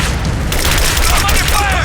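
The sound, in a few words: enemy gunfire and explosions in Rise of the Tomb Raider video game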